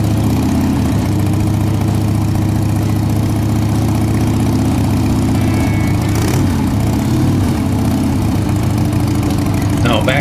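An all-black Harley Shovelhead motorcycle engine idles while warming up, giving a steady, loud, low rumble with an uneven throb and a brief rev near the end.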